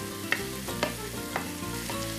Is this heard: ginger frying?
yes